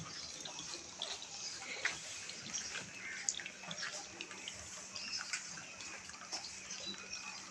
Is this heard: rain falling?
yes